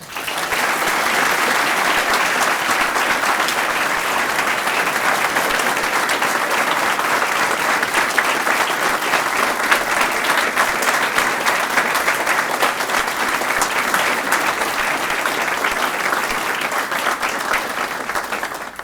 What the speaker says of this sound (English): please join me in a round of applause for all the retirees on a job well done